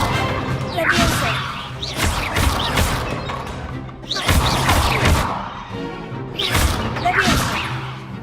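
A Levioso spell cast at a training dummy in Hogwarts Legacy, during a Defence Against Dark Arts class: repeated swishing whooshes and loud crashing impacts recur in bursts over steady game background, with voices talking in between.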